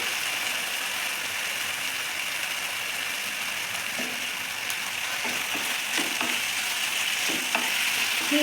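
Mushroom manchurian with tomato sauce fries in a pan, a steady close sizzle with occasional scraping stirs and light utensil knocks toward the end.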